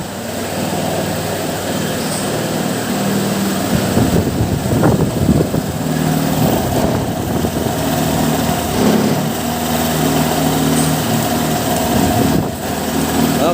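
A Honda Click 125 V2 scooter engine with loose compression idles steadily with a buzzing, slightly uneven hum, revving briefly partway through before settling back.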